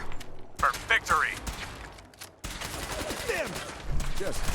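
Gunfire from a Fallout 4 firefight, with sharp shots and bursts of fire mixed into a continuous battle din while voices shout over the action.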